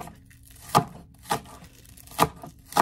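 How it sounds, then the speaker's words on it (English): A big kitchen knife chops an onion in four separate crisp strokes against a cutting board, each crunch standing alone with short pauses between. "back to the big knife. Cut them in half. Makes quick work of this onion."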